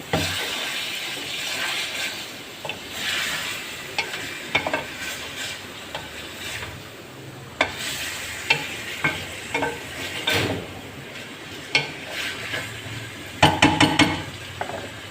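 Chili, turmeric, salt and garam masala frying in a pan while being stirred, a steady close sizzle broken by repeated scraping taps of a spoon against the metal, with no talk.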